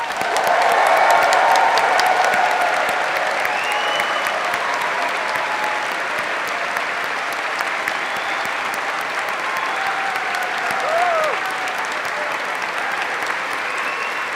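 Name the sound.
audience applause at graduation ceremony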